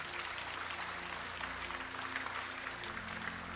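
A church congregation applauds during a service, many hands clapping in a dense, even, continuous patter at moderate distance with no voices on top.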